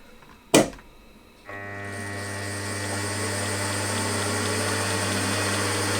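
MT50 milling machine driving a homemade gear hobbing attachment, with a sharp click followed by the motor spinning up into a steady, close, high mechanical whine and hum that keeps running evenly.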